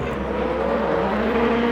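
A rear-wheel drive BMW touring car races at Thruxton, its engine a steady, close droning roar with a faint whine over the top, heard alone.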